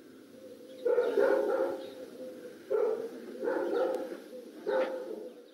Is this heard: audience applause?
no